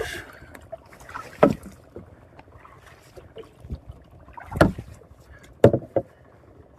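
A wooden rowboat is paddled across a village pond. Close oar strokes splash and knock at uneven intervals over soft water lapping, with no talking.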